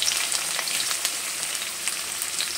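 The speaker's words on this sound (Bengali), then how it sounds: "পেঁয়াজটা দিয়ে একটু লবণ দিয়ে দিচ্ছি যাতে পেঁয়াজটা তাড়াতাড়ি ভেজে যায়" Chopped onions sizzle and fry in mustard oil with whole spices such as bay leaf, cardamom, cloves and cinnamon, a close, steady crackling hiss with occasional stirring pops.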